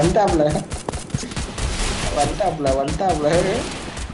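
Gunfire in the mobile battle game Free Fire, several sharp shots cracking in quick succession across a short burst, loud and close, with voices talking over the shooting.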